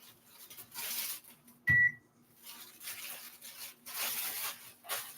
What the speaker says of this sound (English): you'll hear a beep because the microwave is over